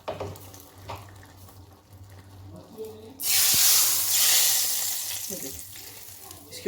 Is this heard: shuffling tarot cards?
no